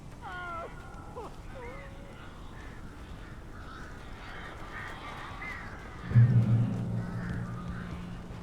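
In the video game Alan Wake Remastered on PS5, several birds give harsh, crow-like caws in short rising calls near the start. Fainter bird calls follow, and a low rumbling swell enters near the end.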